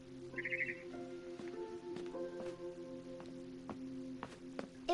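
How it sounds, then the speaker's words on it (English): Barn swallow chirping outside a window in the game What Remains of Edith Finch, a brief high twittering burst early on, faint over a steady layered game soundscape with soft footstep-like clicks. "Then I heard chirping outside my window."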